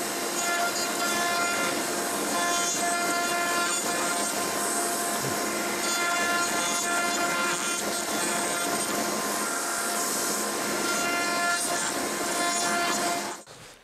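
Router or power tool rounding over the edges of wooden coaster pieces, a loud continuous high-pitched whine holding steady for nearly fourteen seconds before cutting off abruptly.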